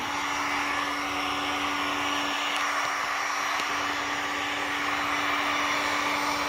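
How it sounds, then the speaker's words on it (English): A steady, loud blowing whoosh of a heat gun warming vinyl wrap for removal runs without pause, with a constant whine beneath it. "I'm turning the heat gun on, so it's going to get a little loud"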